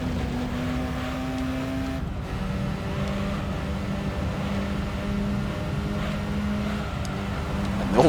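Racing car engines in Gran Turismo 3 drone steadily at moderate volume, a sustained buzzing tone that shifts pitch once early on and then holds level, with no talk over it.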